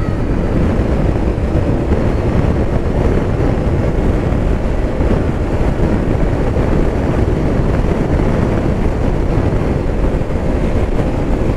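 A Honda PCX 160 CBS scooter riding at speed on a road, with loud, constant wind rush and engine drone filling the whole clip.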